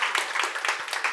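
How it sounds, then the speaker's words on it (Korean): A church congregation applauds, a brief burst of dense, steady clapping from many hands in a room. "박수 한번 해주실래요?"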